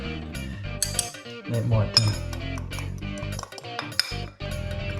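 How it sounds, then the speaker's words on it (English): A metal fork clinks and scrapes rapidly against a bowl while fluffing up beer batter, a busy run of bright tinkling hits at close range, with a voice speaking briefly over it. "I'll give it a bit of a fluff up with a fork."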